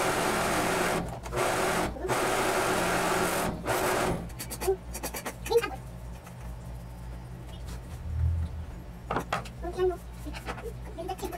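A sewing machine stitches the edges of a fabric belt piece in short runs of fast, rhythmic mechanical whirring, separated by pauses with softer handling noises.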